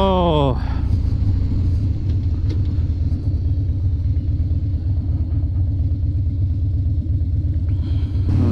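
A 2016 Harley-Davidson Dyna Street Bob rumbles steadily while being ridden on a damp, chilly day in East Texas, a loud, continuous low engine drone with a brief higher sweep at the start.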